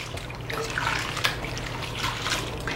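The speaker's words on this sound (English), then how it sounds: "rub the cooked noodle in between your hands and try to like wash out all the starch" Water runs steadily from a tap while cooked noodles are rubbed between the hands to rinse off the starch, with a few splashes and a light drip, close and alone.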